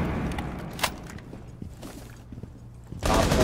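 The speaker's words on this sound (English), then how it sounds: "Popping flashbang." A flashbang grenade detonates in the Rainbow Six Siege video game, with a sharp bang early on, scattered clicks and shuffles, and then a loud sustained blast of noise at the end.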